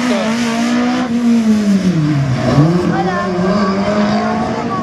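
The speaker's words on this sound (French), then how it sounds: "Une magnifique voiture qui nous rappelle Ludo." A race car engine on a slalom course drones loudly, its pitch dipping and climbing as it slows and accelerates through turns, with a commentator talking over it.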